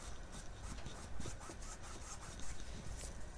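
A paintbrush lightly strokes white acrylic paint over painted birch trees, giving faint, soft, repeated brushing rubs close up in a quiet room.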